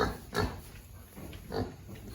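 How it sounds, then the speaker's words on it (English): A pig grunts a few times in low, snuffling bursts, close by, with a steady outdoor background hum. "There's our Pig Trudy."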